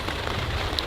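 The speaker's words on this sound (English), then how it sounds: "It's starting to rain quite hard now" Hard rain falling outdoors, a dense steady hiss of drops on surfaces with no break, close and constant.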